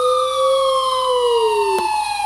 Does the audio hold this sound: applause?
no